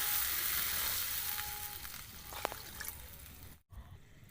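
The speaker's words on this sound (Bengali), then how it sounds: "এবার জল দিয়ে দেওয়া হলো" Water poured into a hot oiled wok over a wood fire for a simple homestyle snakehead fish curry, a loud hissing sizzle that slowly dies down, some bubbling crackles, then a brief dropout near the end.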